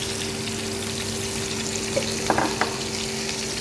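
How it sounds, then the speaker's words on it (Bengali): Green chillies and onion frying in oil, a steady low sizzle with a couple of brief stirring clatters midway, near and moderate in level. "কাঁচামরিচ পিঁয়াজ ঢেলে দিলাম এখানে কিছু"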